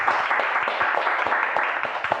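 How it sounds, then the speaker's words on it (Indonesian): Hands clap together in a podcast studio in quick, fairly regular beats, a small group applauding at close range for a couple of seconds. "Tepuk tangan dong."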